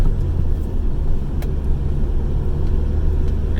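A GSX car with newly replaced suspension and fresh fluids cruises down a road, its steady low engine and tyre rumble filling the cabin continuously and loudly with no talk over it.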